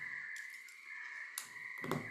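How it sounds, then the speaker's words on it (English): Crickets chirp in a steady, thin, high-pitched drone that runs continuously and fairly faint, broken only by a few soft knocks and rustles nearby. "I hear crickets."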